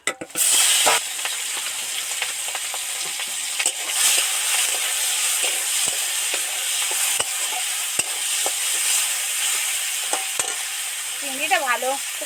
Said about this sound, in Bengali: তেল গরম হয়ে গেছে এবার চিংড়ি কটা তেলের মধ্যে উঠিয়ে দিচ্ছি